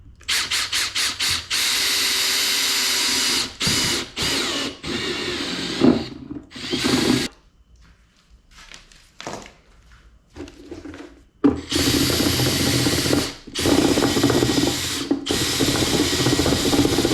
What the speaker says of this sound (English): So we're gonna drill it.